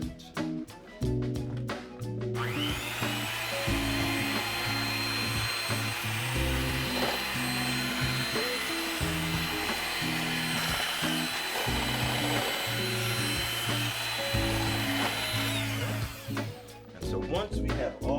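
Electric hand mixer churning gingerbread cookie dough with egg, a steady loud whirring drone that starts after a brief pause and runs continuously before cutting off near the end.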